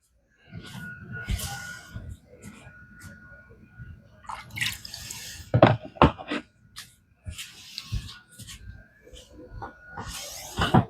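A whetstone from a kitchen-knife sharpening set is rinsed under running water, giving soft splashing and dripping in uneven bursts, close by, with a few sharper clatters and a voice talking intermittently.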